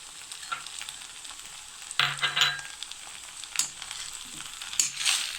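Cauliflower florets and spring onion stirred into a thickened Manchurian sauce in a hot pan, soft sizzling broken by several scraping, clattering strokes of the spoon against the pan.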